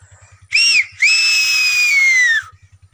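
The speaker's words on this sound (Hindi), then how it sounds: "ये सीटी हम इसलिए मारते हैं भाई कि कोई अगर अंदर आगे पीछे होगा ना तो बाग बूझ जाएगा" A person whistles loudly in a village corn field to scare off animals: a short rising whistle followed by a long, steady, slowly falling whistle, with a faint rhythmic pulsing in the background.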